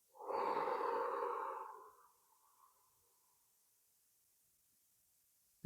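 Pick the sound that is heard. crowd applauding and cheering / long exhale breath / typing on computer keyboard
long exhale breath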